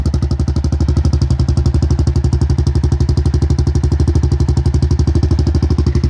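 A Honda Rancher 420 ATV with an FMF exhaust idles close by, a loud, deep, even thumping pulse that holds steady throughout with no voices.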